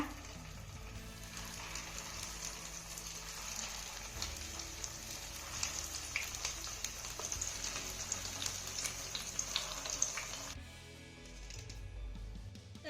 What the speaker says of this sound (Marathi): आता अशाच पद्धतीने आपण राहिलेले वडे देखील तळून घेऊया